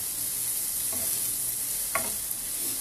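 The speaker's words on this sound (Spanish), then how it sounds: "Y lo seguimos revolviendo para que agarre sazoncito." Chicken seasoned with chicken bouillon sizzles steadily in a frying pan, with two or three brief scraping knocks from a stirring utensil cutting through the constant close hiss.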